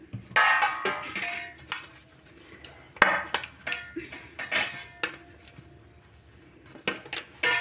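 Two metal plates handled while being greased with white oil, a string of close clanks, clinks and scrapes of metal in irregular bursts separated by quieter pauses, no voices.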